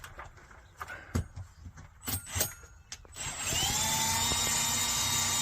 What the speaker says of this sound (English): Let's go on the outside and drill the hole.